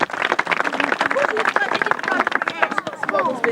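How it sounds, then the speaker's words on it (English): Audience clapping for ladies in period costume at a Jane Austen fair, a steady patter of many hands close by, with chatter and voices mixed through it. "Can you give these ladies a round of applause"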